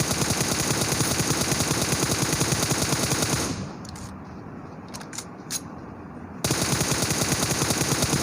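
Sustained automatic gunfire in the mobile battle-royale game PUBG Mobile, loud dense bursts that drop away for a few seconds with scattered faint shots, then return at full intensity.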